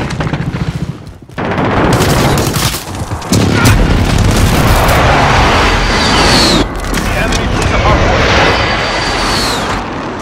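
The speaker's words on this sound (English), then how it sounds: "Enemy precision airstrike. Get down." Precision airstrike explosions in Call of Duty: Modern Warfare, a loud sequence of heavy booms and rumbling blasts with crackling gunfire-like bursts, sustained and dense after a sharp initial hit.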